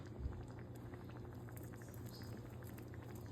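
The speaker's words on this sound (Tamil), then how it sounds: "இப்போ இது நல்ல கொதி வந்துருச்சு." Banana stem kootu at a rolling boil in a pot, a quiet, continuous bubbling and light popping with no voices.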